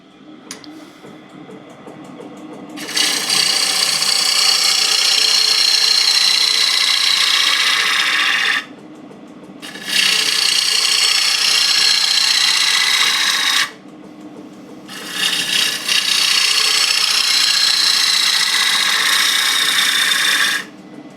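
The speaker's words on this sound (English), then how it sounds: "So let's do a bit more turning." Wooden bowl turning on a lathe, heard as three long passes of loud, bright hissing cutting, each lasting several seconds and separated by short pauses where only the quieter hum of the spinning lathe remains.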